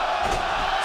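A sold-out wrestling arena crowd at NXT TakeOver: Dallas roars in a dense, continuous wash of cheering and shouting that fills the brief moment.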